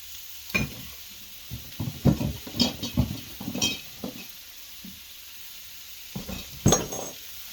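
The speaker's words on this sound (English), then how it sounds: "We can turn this down some and just let it simmer." Bacon and cabbage simmering in a pan, with a soft sizzle beneath repeated close stirring scrapes and clinks of a utensil against the pan, coming in irregular bursts.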